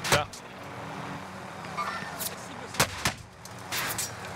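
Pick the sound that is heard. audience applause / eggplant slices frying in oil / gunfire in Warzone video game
gunfire in Warzone video game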